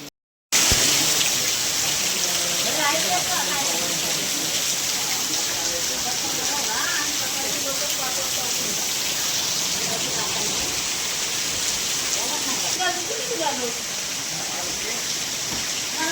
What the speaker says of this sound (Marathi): मित्रांनो, जबरदस्त पाऊस चालू आहे.